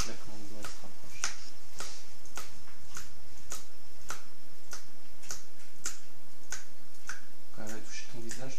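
Crisp, close finger snaps from a hypnotist inducing hypnosis repeat a dozen or so times at a regular, slightly quickening pace, with a brief bit of voice near the end.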